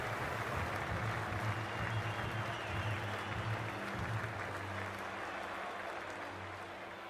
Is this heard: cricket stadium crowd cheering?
yes